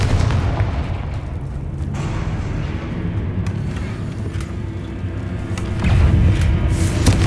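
Confringo fire spell explosions in Hogwarts Legacy, a series of deep booming blasts over constant rumbling game noise, with a heavier burst of impact near the end.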